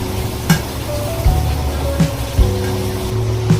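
Spice masala sizzles in a pan for prawn fry, a loud continuous hiss with a few soft clinks and scrapes of stirring. No voices are heard.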